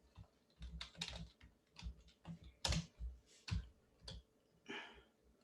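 Keystrokes on a Finnish-layout computer keyboard, an irregular run of close, crisp clicks and taps with short pauses between bursts, heard alone without talk.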